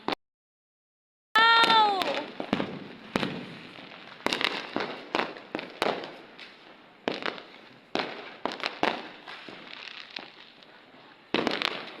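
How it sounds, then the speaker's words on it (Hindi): Firecrackers burst around a rooftop during Diwali night, sharp cracks and pops scattered near and far at an irregular rhythm, with a whistling rocket rising early on and faint voices in between. "चारों तरफ पटाखे पटाखे हैं।"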